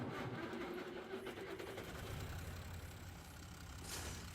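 A tractor engine running in a farming video game, a low steady droning rumble that holds at an even, moderate level without pauses.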